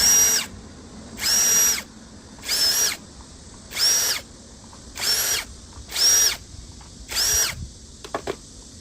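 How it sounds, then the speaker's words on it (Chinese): A cordless power drill whirs in seven short, evenly spaced bursts, each about half a second long, as it backs screws out of another cordless drill's housing, followed by a few faint clicks. The sound is close and loud. "首先把这个螺丝全部给它打开啊。"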